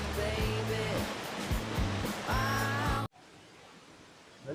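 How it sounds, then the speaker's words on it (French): A small waterfall on the Hérisson cascades rushes in a steady, close hiss while people talk over it, then the sound cuts off abruptly after about three seconds. "Belle petite cascade encore."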